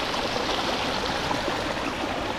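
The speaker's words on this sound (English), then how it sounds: "we made it to this little creek and it's actually flowing." A small creek on the Appalachian Trail flows in a continuous, fairly loud rush and burble, heard up close with no voices.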